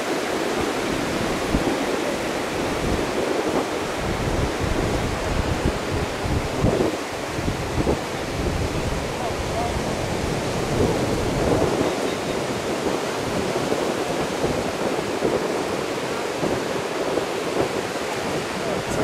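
Surf rolling onto a tropical beach in Gyaahadaze, Ghana, a steady broad roar of breaking waves mixed with wind buffeting, continuous and fairly loud throughout, without talking.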